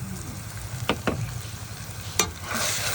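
Spice masala with coriander powder and salt sautéed in a pan, giving a steady close sizzle broken by a few sharp spatula scrapes.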